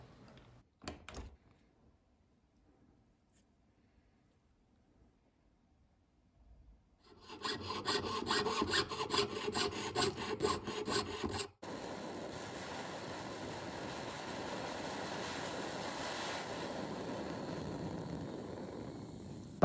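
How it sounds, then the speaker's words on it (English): A gold ring being filed by hand to remove tool marks and excess solder: steady rasping strokes, close and fairly loud, running continuously after a quiet start with a few soft knocks. "I am removing tool marks and excess solder by filing the ring"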